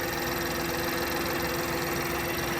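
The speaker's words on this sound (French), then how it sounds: "Voilà le dessous du capot et voilà notre moteur qui est super silencieux." A Mini Clubman engine idles steadily with the bonnet open, a close, continuous mechanical hum with a faint ticking texture running throughout, no voices over it.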